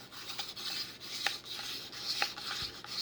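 Wooden spindle rubbing against a fireboard during a primitive friction fire burn-in, giving a steady close rasping scrape with faint rhythmic strokes and small clicks throughout, soft and alone.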